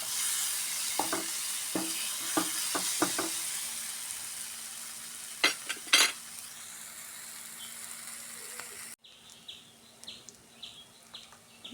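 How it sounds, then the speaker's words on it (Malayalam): Masala paste for chicken kurma frying in a pan, a soft steady sizzle with a burst of quick spatula scrapes early on and a couple of louder stirs later, close and alone, ending in a quieter stretch with faint clinks. "അതുവരെ നമുക്കിത് നന്നായിട്ട് ഇളക്കി കൊടുക്കുക"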